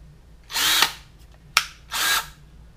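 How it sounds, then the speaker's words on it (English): A power drill whirs through plastic in two short bursts, with a sharp click between them, close and loud with nothing else around, during an add-on install on a 2018 Dodge Charger Scat Pack. "Going slower with the drill"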